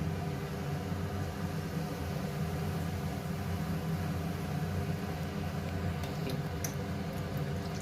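Gulapmanjari pithe, batter-coated sweet dumplings, fry in hot oil with a steady, even sizzle that holds without a break, moderately quiet and close, with a few faint high clicks near the end.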